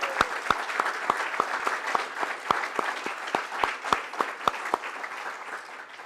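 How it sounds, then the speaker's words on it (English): An awards ceremony audience at an anniversary event applauds steadily for about six seconds, a dense wash of clapping with sharp individual claps standing out near the microphone. "let's do one more round of applause, please, for everybody"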